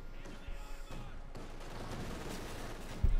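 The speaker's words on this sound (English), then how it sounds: "Austrian machine gun there halting in advance there from Redxwings for the centre." Gunfire and explosions from a World War II battle in the strategy game Company of Heroes 2, with an Austrian machine gun position firing among other weapons, a dense steady din of combat filling the whole stretch with a heavy thump near the end.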